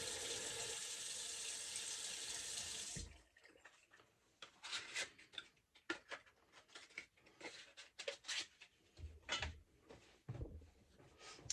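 Water runs steadily from a tap for about three seconds, then stops, followed by scattered splashes and wet patting as a face is rinsed at the sink, close and fairly quiet.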